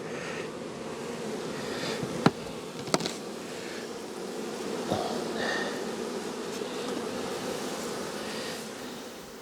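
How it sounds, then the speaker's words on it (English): Honey bees hum steadily from an open hive box outdoors, a dense close buzz that continues throughout, with a couple of sharp knocks early on. "So there's what this box of bees looks like underneath."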